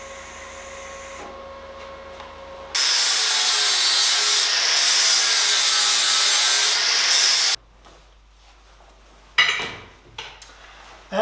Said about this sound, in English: that's the result after I've grinded down the washers